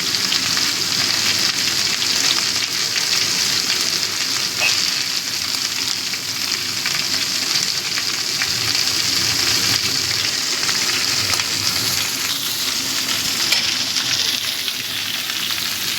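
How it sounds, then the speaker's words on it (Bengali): Potato and cauliflower curry fries in a pan as salt is stirred in, a loud, continuous, close sizzle that stays even from start to finish. "নুনটা দিয়ে ভালো মতো মিশিয়ে নেবো"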